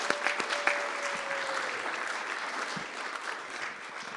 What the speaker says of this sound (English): he deserves a round of applause for all that he's done.